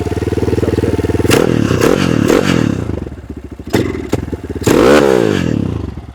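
A Sharmax Expert Pro 300 motorcycle engine idles in neutral close by, a steady rumbling chug broken by several short throttle blips and rev bursts, with no voices.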